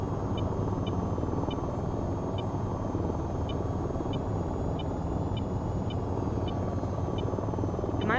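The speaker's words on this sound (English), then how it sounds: "I saw somebody in a helicopter, like, how?" A helicopter in an online multiplayer video game drones steadily and loudly throughout, a continuous low rotor and engine rumble with faint periodic high ticks, and no voices over it.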